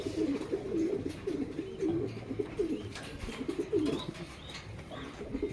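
Young pigeons cooing in a loft, repeated soft throaty coos in uneven bursts, close and fairly clear with faint background rustle.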